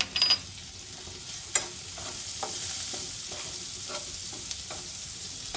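Cut chillies frying in butter and garlic with chicken in a pan, a soft steady sizzle broken by occasional scrapes and knocks of a spoon as the mix is stirred, close by and with no talk.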